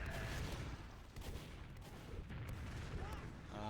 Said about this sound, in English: Soldier throwing some rockets at the enemy team, just trying to get some poke damage here.